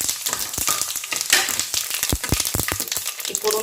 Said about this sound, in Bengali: এই ফোড়নটা আমি হালকা একটুখানি ভেজে নেবো।